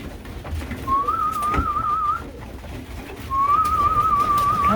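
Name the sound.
racing pigeons cooing at home loft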